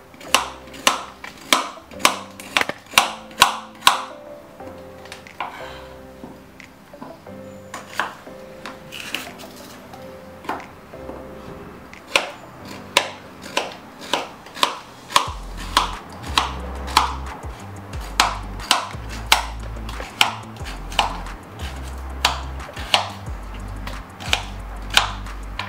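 Carrots are sliced on a cutting board with a knife, a long run of sharp, evenly spaced close taps that speed into quicker clusters, with soft thuds and board knocks underneath.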